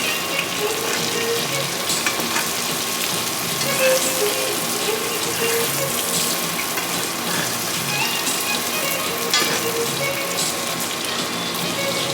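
Salmon sizzles and spits steadily in a hot pan while being basted, a close, continuous frying hiss with faint clinks and no talking.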